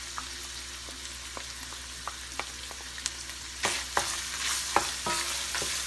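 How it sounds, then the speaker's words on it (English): Garlic and ginger sizzling in a pan with beef and pork as they are stirred, a constant frying hiss with light utensil taps that turn into heavier scraping clatter toward the end. "I'm going to go ahead and add my garlic"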